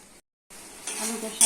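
Spices sizzling while being fried in a pan for a home-style potato, egg and red lentil curry, a soft broadband hiss that cuts out briefly, then returns and grows louder toward the end.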